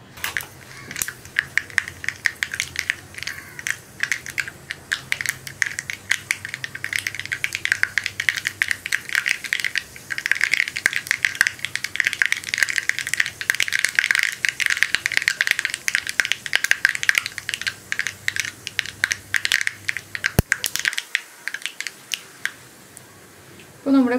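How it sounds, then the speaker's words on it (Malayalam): Mustard seeds crackle and pop in hot coconut oil in a pan, a dense stream of sharp, close sizzling snaps spread over the whole stretch with no talk. "ഈ കടുകൊന്ന് പൊട്ടി വരട്ടെ."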